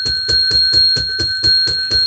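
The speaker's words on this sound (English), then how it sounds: "We got to ring the bell" A bell struck repeatedly in a fast, even rhythm, about eight or nine rings in two seconds, loud and close with sustained high metallic overtones, no talking.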